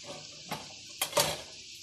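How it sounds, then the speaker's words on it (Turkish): Dishes clink and clatter briefly, a few scattered knocks of crockery and utensils being set down nearby, fairly quiet. "Bulaşıkları mı yerleştireceksin?"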